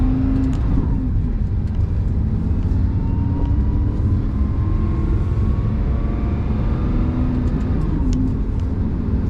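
A car with a manual clutch is driven on the gas, its engine droning loud and steady with a rising whine and gear changes under continuous road and wind roar.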